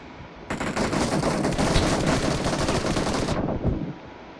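Sustained automatic gunfire in a team deathmatch shooter set in a warehouse, a dense continuous burst lasting a few seconds, loud and close, with no talk over it.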